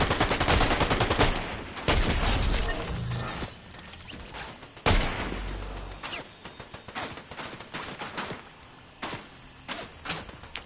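Gunfire rattles through a first-person shooter match, with loud rapid bursts and scattered single shots from other players, some close and sharp, others lighter and farther off, in uneven clusters over about ten seconds.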